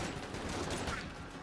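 Gunfire in the roguelike shooter Enter the Gungeon: a short, dense burst of rapid overlapping shots, fairly loud and continuous across the moment, with no talk over it.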